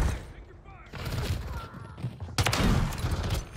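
Pistol gunshots in a first-person shooter video game, several sharp reports in quick succession over game ambience, with a louder burst near the end.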